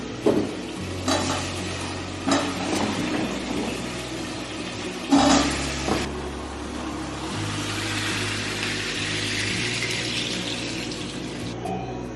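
Irish potatoes tumble into a pan of frying onions and tomatoes, with a few sharp knocks and clatters, then a steady hissing sizzle that builds and carries on alone.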